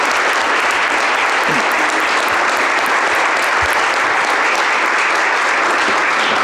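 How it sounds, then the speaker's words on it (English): Loud, dense audience applause at a county board meeting honoring a sheriff's deputy, sustained and even throughout with no one talking over it. "So, round of applause for Deputy Krozik and all these guys."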